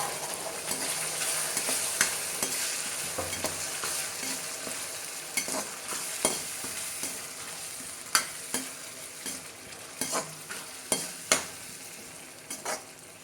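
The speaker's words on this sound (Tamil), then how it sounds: "சின்ன வெங்காயம் ஜீரகம் மிளகு எல்லாத்தையும் அடித்து வச்சுருக்கேன் அதை உள்ளே போட்டு நல்லா வதக்கிடுவேன்" Pounded small onions, cumin and pepper sauté in a hot pan for a chicken and field-bean gravy, a steady sizzle broken by sharp clicks and scrapes of a stirring utensil that grow more frequent toward the end.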